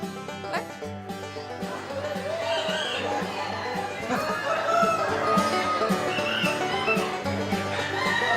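Chickens at the Balmoral Show, an agricultural show in 2006, crowing and clucking amid steady crowd noise and background music, with the bird calls rising intermittently over the busy ambience.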